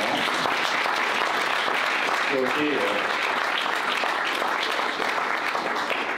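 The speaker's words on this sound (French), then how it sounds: "vous pouvez applaudir nos intervenants." An audience applauds the speakers at a conference on cybersecurity and mobility, steady dense clapping throughout with a few brief voices audible in the middle.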